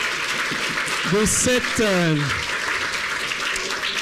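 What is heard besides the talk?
audience applause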